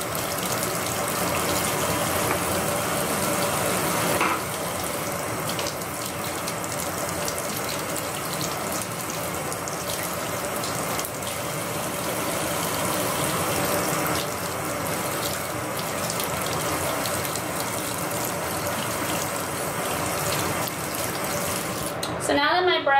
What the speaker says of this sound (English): that way I can conserve water, so I'm not running the sink for so long